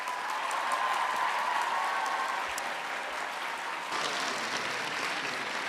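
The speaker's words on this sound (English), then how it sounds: "can we give a round of applause to all the advisors in this room?" Audience in a room full of school advisors at a journalism education convention breaking into applause, a dense, steady wash of clapping that fills the space and surges again near the end.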